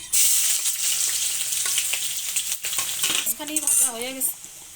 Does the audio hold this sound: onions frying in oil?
yes